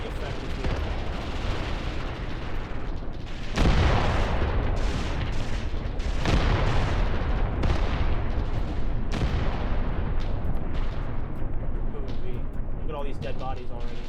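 An artillery barrage in the war game Graviteam Tactics: repeated heavy booming impacts land irregularly over a constant low rumble, loud and dense, with a voice talking over them.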